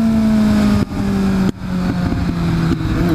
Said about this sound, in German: Wir geben ein bisschen Gas und gehen dann schlagartig vom Gas runter.